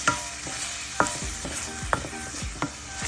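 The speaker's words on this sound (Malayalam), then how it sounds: "നമുക്ക് ഈ തേങ്ങ അരച്ച് ഇട്ടിട്ട് ഒന്ന് യോജിപ്പിച്ചെടുക്കാം." Ground coconut being stirred into cooked beetroot in a pan, a few distinct spoon scrapes and knocks against the pan over a low sizzle, close by, with no voices.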